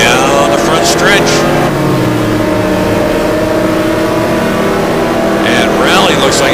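Koenigsegg GT1 race car engine at Mugello drones loudly down the front stretch, with pitch rising as it accelerates and whooshing passes from other cars near the start and end; a commentator talks over it.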